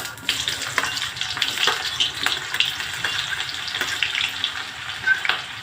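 Onion dropped into hot oil with cumin already browned in the pan, giving a steady close sizzle with scattered crackles and a few stirring scrapes, no voices.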